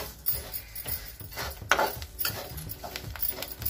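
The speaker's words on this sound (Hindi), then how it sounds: "अब हम इसको चलाते रहेंगे।" Puffed rice (murmura) stirred in a pan at home, with irregular metallic scrapes and light rattling clinks, one sharper clatter partway through, and no talking.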